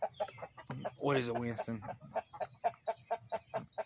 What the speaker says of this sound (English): I think 28 chickens is more than enough.